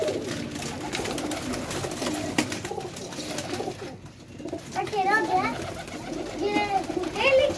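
Pigeons belonging to a local man, cooing and calling nearby in a loft, with people talking over much of the clip and a few sharper bird calls toward the end.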